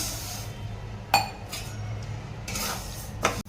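A metal kadhai is set down on a gas stove with a sharp clank, and a second lighter metallic knock follows a couple of seconds later over a quiet room hum.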